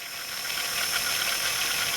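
An RGT RC crawler's electric motor runs steadily through its overdrive gearbox with a close, continuous high-pitched whine and whir, unbroken for two seconds, with no voices.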